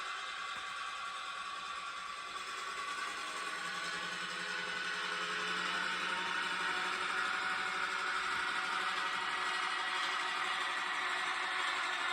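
Diesel engine sound from a model locomotive sound decoder on a Gopher Models GM unit, notching up through the throttle under heavy load, a steady mechanical drone with rattle that grows gradually louder, with no talk.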